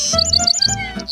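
Birds in a forest chirp in a quick, repeated series of bright, high tweets, close and clear, with a brief final call after a short pause.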